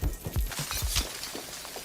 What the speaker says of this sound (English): Rotating blades break the bottle into large segments.